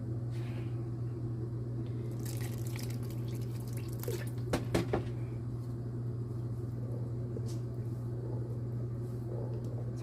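Water drips and trickles into a pot of thick Caribbean three man porridge as it is stirred, with a few short splashes over a constant low hum.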